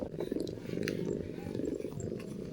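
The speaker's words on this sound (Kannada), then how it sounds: "ಇದು ಬೆಕ್ಕು ಹಾಡು ಹೇಳೋದು ಅಮ್ಮನಿಗೆ, ಗುರ್ರ ಗುರ್ರ ಹಾಡು ಹೇಳೋದು" A cat purring steadily through a head massage, a low continuous rumble close by with no break.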